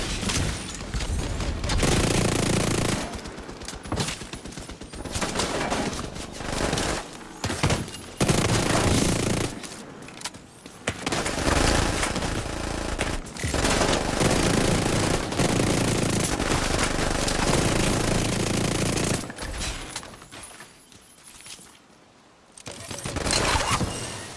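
Ouroboros submachine gun firing in The Division 2 video game, long loud sustained bursts of rapid automatic fire broken by brief pauses, with shorter bursts and mechanical clatter toward the end.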